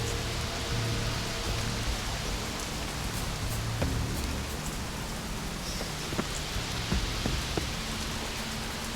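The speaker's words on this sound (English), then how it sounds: "Looks like rain." Steady rain falls in The Witcher 3 video game, a dense, even hiss of drops with occasional faint patters, constant and fairly quiet throughout with no speech.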